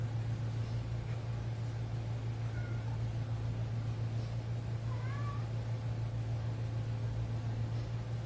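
A house cat chasing a dog gives two or three short, faint meows partway through, set against a steady low electrical hum with no talking.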